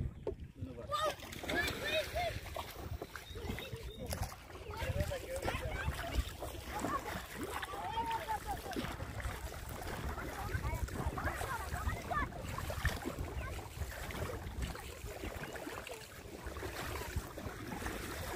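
A country boat moves along a river past green villages, its water splashing and wind noise running steadily throughout, with people talking over it.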